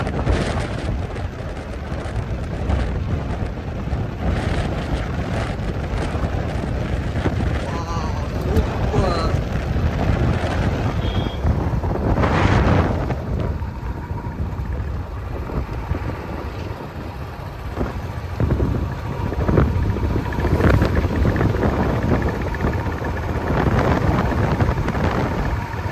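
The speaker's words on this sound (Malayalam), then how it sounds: "നല്ല കാറ്റും" Strong wind buffets the microphone while riding a Royal Enfield motorcycle, a loud, steady low roar and rumble mixed with engine noise throughout.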